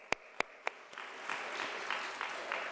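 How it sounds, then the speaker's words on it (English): Applause for university staff at an academic conference, opening with a few sharp, separate claps before a softer, spread-out round of clapping from the audience, moderately distant. "So I'd like to give you a round of applause."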